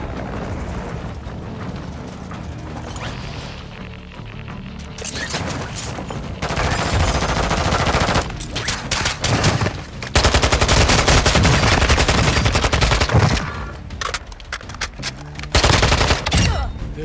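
Heavy automatic gunfire from Call of Duty: Modern Warfare 3 on PS5 as players shoot at a hostile attack helicopter, with loud sustained bursts and intense overlapping fusillades building toward the end.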